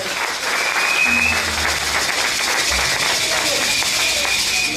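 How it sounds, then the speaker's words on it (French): Loud, steady applause from a church congregation at an evangelical mission conference, filling the whole stretch with dense clapping and faint voices mixed in underneath. "Acclamez très fort."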